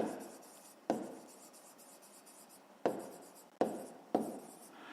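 A pen scratches out a fifth-grade math solution on paper, steady close scribbling broken by four sharp taps or strokes.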